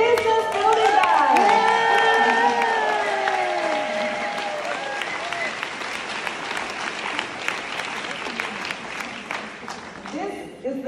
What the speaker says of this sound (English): Let's make a big round of applause for the business building guy.